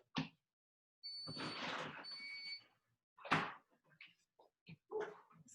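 A freezer alarm beeps in a home: a sustained electronic tone sounding twice, fairly faint, amid scattered clicks and rustles.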